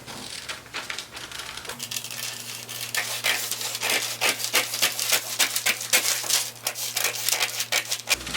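Scissors cut a paper sleeve pattern in a rapid series of close crisp snips and rustles, a steady irregular rhythm of sharp cuts with paper crinkling between them and a low hum underneath.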